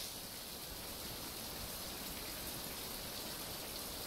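Rain falls in the video game Survival Fountain of Youth as a dense, even hiss of droplets that stays constant throughout, with no voices.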